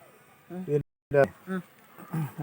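Close, intermittent buzzing of honey bees at a bee farm in short bursts with brief pauses, and a voice speaking faintly in the background.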